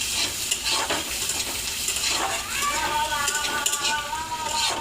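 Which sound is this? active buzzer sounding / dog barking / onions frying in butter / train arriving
onions frying in butter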